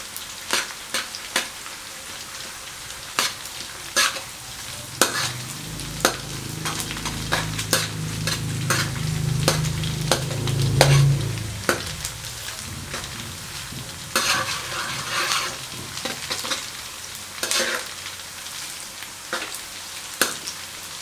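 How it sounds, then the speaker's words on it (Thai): Pork crackling chili paste frying in medium-hot oil with frequent stirring, a steady sizzle broken by repeated sharp scrapes and clinks of the utensil against the pan, with a low rumbling swell in the middle. "น้ำมันร้อนกลางๆ แล้วก็คนบ่อยๆ ให้มันทั่วถึง"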